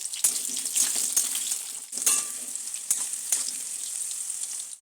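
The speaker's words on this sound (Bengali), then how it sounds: "এরপর এক এক করে আলুর টুকরোগুলো তেলের মধ্যে ছেড়ে দেব।" Potato pieces frying in hot mustard oil mixed with ghee, a bright continuous sizzle with a few sharper crackles and pops, close and fairly loud until it stops suddenly.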